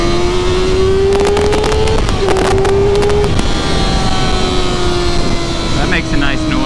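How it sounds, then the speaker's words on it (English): A 2019 Kawasaki ZX-6R on its stock exhaust hums steadily while being ridden, its tone climbing gently, dipping briefly at gear changes, then settling, all under heavy wind rush. "stock exhaust can be changed out, although this bike sounds really good"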